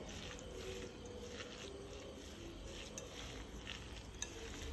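Shallots being mixed into a jaggery masala for ragi ada, a quiet, continuous soft stirring with faint sizzle and squishy scraping, no voices.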